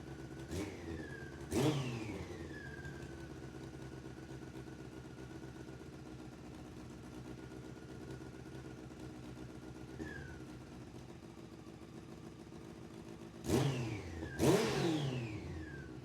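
A Honda CBR600 four-cylinder sport motorcycle with 64,000 miles, just fired up, idles steadily nearby with a few sharp throttle blips that rise and fall, no talking.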